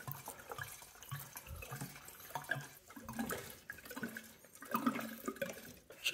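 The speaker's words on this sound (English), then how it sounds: "last but not least, topping off the fuel" Fuel trickles and splashes into the small tank of a 1981 Honda Motocompo scooter, a faint, close, uneven liquid pour with gurgling and dripping and no talk.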